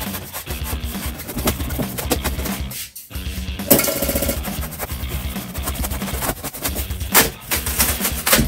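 Power tool cutting through material for a Monster Hunter great sword cosplay prop, a loud continuous rattling buzz with brief pauses and restarts, no talk.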